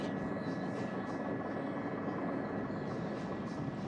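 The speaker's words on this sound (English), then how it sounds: "the helicopter picking him up and underway" A helicopter filming a cyclist at the 2013 UCI Road World Championships elite men's time trial makes a steady, unbroken rotor and engine drone. The broad roar stays even throughout and is not interrupted by speech.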